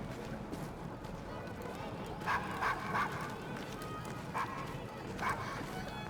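Short barks from a dog in the Assassin's Creed Syndicate video game, a few brief bursts spaced across the clip over a steady bed of street ambience and other noise; no clear talk.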